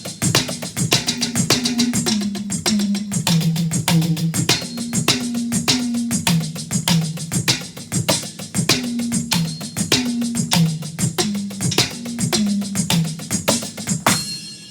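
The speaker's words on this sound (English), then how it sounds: "So if we try that right hand lead around the kit, it would sound something like this." An acoustic drum kit played with right-hand-lead sticking moving around the toms, with steady strong hits, a pitched tom pattern repeating and cymbal accents, loud and close with no talking.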